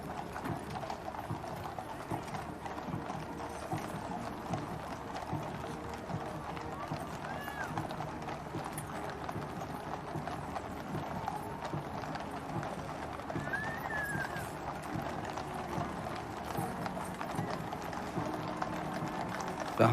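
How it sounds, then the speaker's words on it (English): Horses' hooves clip-clop at a slow walking pace in a state funeral procession, a steady continuous patter over a large outdoor crowd ambience, with a voice talking over it throughout and an occasional whinny. "Some of the horses, understandably, a little restless at this long, slow walk"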